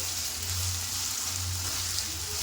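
Grated potato frying in a pan for a potato and egg dish: a dense, even hiss of sizzling oil that runs the whole time, close and fairly loud, with a faint low rumble underneath and no voices.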